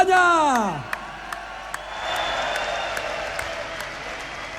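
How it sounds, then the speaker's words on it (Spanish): A festival crowd in Zaragoza gives the Ronda de Voltaña a loud burst of applause with some whoops, after a shouted announcement, then settles into dense, sustained clapping. "Un aplauso para la Ronda de Voltaña."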